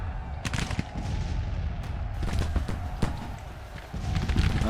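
Musket and artillery fire in the American Civil War strategy game Grand Tactician: The Civil War, a continuous battle din of scattered sharp shots and booms over a rumbling background.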